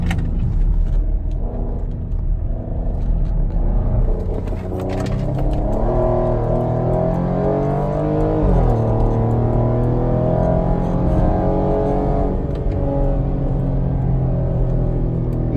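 A 2014 Porsche Cayenne SUV drives through a roundabout, its engine humming steadily from the cabin with a gentle rise in pitch as it accelerates out, with no tire squeal and no talk.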